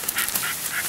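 A working ratting dog breathes in quick, steady pants at close range during a rat hunt among hay bales. The sound runs unbroken for under a second, with no talk.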